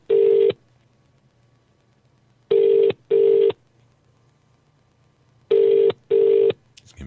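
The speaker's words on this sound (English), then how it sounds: "It's ringing now." A telephone rings out on a call, with five loud identical electronic ring bursts arriving in pairs and separated by pauses, close and clear over a quiet low hum, with no talking.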